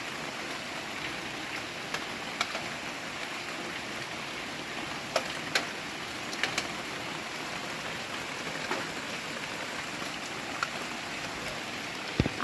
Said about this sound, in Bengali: বাইরে অজোর ধারায় বৃষ্টি পড়ছে দেখো